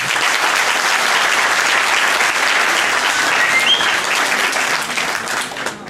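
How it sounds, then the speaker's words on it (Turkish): An audience at a lecture hall event bursts into loud, sustained applause, a dense, even roar of many hands clapping that holds steady for several seconds before tapering off at the end. "onlara da bir alkış yapalım"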